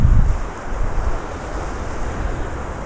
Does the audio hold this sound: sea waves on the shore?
yes